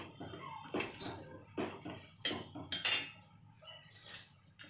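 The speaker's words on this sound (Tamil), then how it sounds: "இப்போ பாகு ஊற்றிட்டு நல்லா நம்ம கலந்து விட்டுடலாம்." Spoon stirring jaggery syrup into poha payasam in a metal pot, giving several soft clinks and scrapes spaced through the moment, fairly quiet and close, with no talking.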